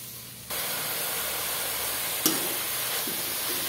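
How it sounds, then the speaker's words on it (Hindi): Grated bottle gourd frying in a pan for halwa, a steady broad sizzle that starts abruptly and holds, with a brief clink of stirring partway through. "अच्छी तरह से मिला मिला कर इसको फ्राई किया कीजिएगा।"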